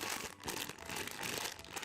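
Protective plastic film crinkles and crackles as it is peeled off a boxed anime figure, a close, busy rustling that runs without a break.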